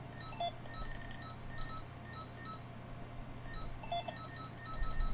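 RadioShack IQ electronic game timer giving a faint, steady pattern of soft electronic ticks and beeps over a low hum in a quiet room.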